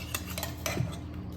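Boiled potatoes lifted out of a pressure cooker into a serving vessel, with soft metallic clinks of a spoon against the pot and dishes, close and fairly quiet over a short moment.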